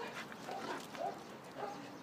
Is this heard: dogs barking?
yes